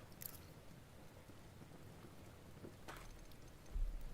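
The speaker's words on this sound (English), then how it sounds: "What a wonderful day. It's raining." Soft, steady rain falls in Enshrouded, a faint continuous hiss with a couple of brief brighter splashes and a low rumble near the end.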